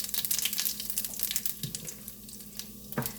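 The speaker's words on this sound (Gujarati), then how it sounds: "થોડી હિંગ નાખીશું" Asafoetida goes into hot oil in a pan for an Indian zucchini curry, producing a close, busy sizzle with crackles that eases slightly before a final bump, without speech.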